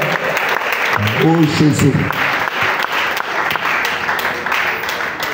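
A church congregation at a morning prayer service applauds steadily and loudly throughout, with a voice calling out briefly near the start over the clapping.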